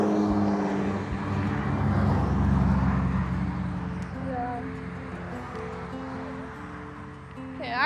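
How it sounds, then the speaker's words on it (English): Cars roll past on a road near a gravel trail after heavy overnight rain, a steady swelling engine and tire rumble that peaks and fades, with faint voices mixed in. "here's all the cars"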